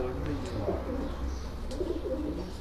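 Pigeons in a rooftop loft give low, rolling coos amid faint chirps, with people talking in the background.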